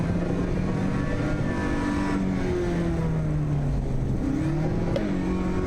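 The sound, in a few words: race car engine accelerating in Assetto Corsa EVO video game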